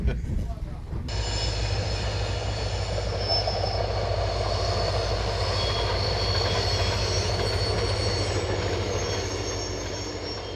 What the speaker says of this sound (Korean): 한참을 달리던 기차가 잠시 숨을 돌리기 위해 걸음을 멈춘다.